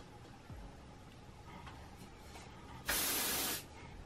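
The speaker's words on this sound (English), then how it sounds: "We're gonna spray with our outer space," A single short hiss of an aerosol spray, loud and close, lasting under a second against quiet room noise.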